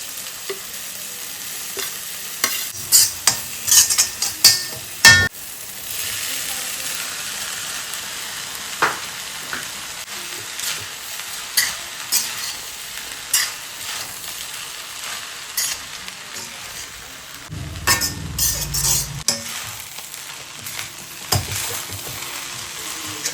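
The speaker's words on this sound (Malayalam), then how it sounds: "ഇനി ഇതിലേക്ക് തക്കാളി ഇട്ട് കൊടുക്കാം." Tomatoes and coriander leaves fry in a pan with a steady close sizzle, broken by clattering bursts of stirring and scraping; no one speaks.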